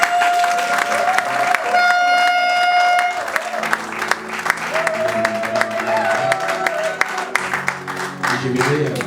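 A church wedding congregation claps and cheers to acclaim the Lord, loud sustained applause filling the hall while a voice and sustained music tones carry over it.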